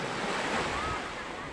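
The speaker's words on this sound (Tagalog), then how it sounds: "Ito ang ating baybaying dagat" Ocean waves wash steadily onto a tropical seashore at Sitio Recudo, a broad continuous surf roar mixed with wind buffeting the microphone, with no talk over it.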